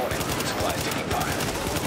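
Rapid gunfire from a weapon in Tom Clancy's The Division, a continuous burst of shots with a distinct pulse.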